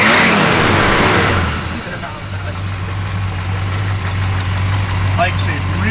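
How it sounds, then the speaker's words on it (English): A 1967 Plymouth GTX convertible's V8 engine revs loudly up close, then drops back to a steady, rumbling idle with a deep throbbing note. "Put a little rev on."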